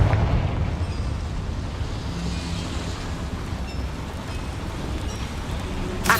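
A Confringo fire spell explodes in the video game Hogwarts Legacy, giving a loud, sustained roar of rumbling, crackling noise that holds steady for several seconds and swells again sharply at the very end.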